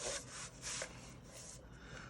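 Paper is scored with a scoring tool during card and treat-box crafting, giving short, faint rasping strokes in a few quick passes, close by and without talk.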